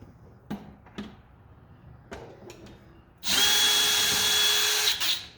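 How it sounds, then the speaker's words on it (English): A few light knocks and taps, then a power drill whirs loudly and steadily for about two seconds removing a screw from a retractable air hose reel, before winding down with a click. "Get your drill or screwdriver. Pretty much take the screw out."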